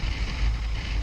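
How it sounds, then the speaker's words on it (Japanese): Strong coastal wind sweeps the west Izu coast near Matsuzaki above a rough Suruga Bay, buffeting the microphone as a loud, steady low roar with no pauses. "西海岸強風ですね。"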